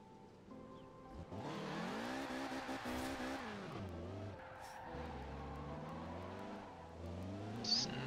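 A rotary-engined Mazda Miata on drift suspension pulls away, its engine revving up and down loudly and close by, with tires squealing as it gathers speed.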